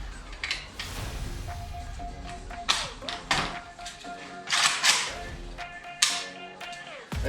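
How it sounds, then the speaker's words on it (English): Metal parts of an AK-47 rifle being pulled apart and refitted, with irregular sharp clacks, slides and snaps of the receiver cover and bolt, plus a faint background hum. "Stripping and putting back together an AK-47 for the first time."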